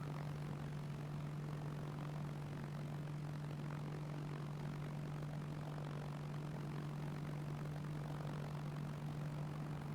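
A steady, faint engine drone from an aircraft flying in a Martinique role-play game, with a constant low hum and broadband propeller-like noise that holds evenly throughout, no voices.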